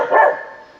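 Small dogs bark in a single short burst at a home, close and fairly loud, fading quickly afterward with no talking.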